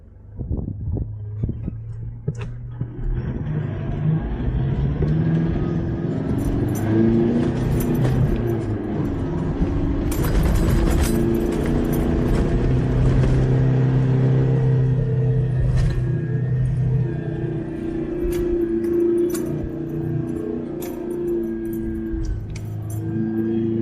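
A heavy Unimog truck engine rumbles and strains at low revs for a long stretch while labouring through soft sand, with wind buffeting the microphone; no talking.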